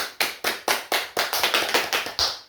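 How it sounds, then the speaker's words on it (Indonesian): In a sixth-grade classroom, students clap for Kak Rahma in a sharp, rhythmic pattern of about a dozen distinct, evenly spaced claps, close and loud, with no talking. "Beri tepuk tangan untuk Kak Rahma"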